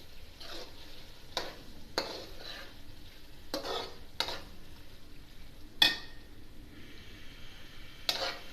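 Minced meat keema fries with yogurt in a pan under a soft, steady sizzle, broken by repeated sharp scraping strokes of a spoon stirring at irregular intervals.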